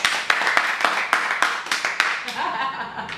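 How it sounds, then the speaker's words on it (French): A studio audience on a French-language dance show with the Benomania dancers, clapping in a few loud, sharp claps at an uneven pace that fade out, with brief voices in the background. "On applaudit un peu."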